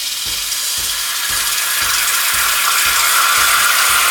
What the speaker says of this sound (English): you can hear now the coffee machine starting to produce the steam